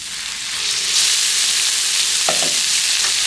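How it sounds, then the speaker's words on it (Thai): Liver is stir-fried in a pan with garlic, coriander root and pepper for a curry-powder dish, a dense close sizzle that swells after the first second, with a couple of brief spatula scrapes near the end and no speech. "พอใส่ตับแล้วผัดคลุกให้เข้ากัน"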